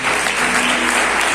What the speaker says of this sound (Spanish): Demos un fuerte aplauso a Cristo.